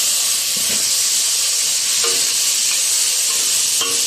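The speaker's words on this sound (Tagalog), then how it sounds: "Ayan guys, lalagyan na natin ang ating rice." Rice stirred in a hot pan while frying for kushari gives a continuous close sizzle and hiss, with a few scraping stirs and light clinks at intervals and no talking.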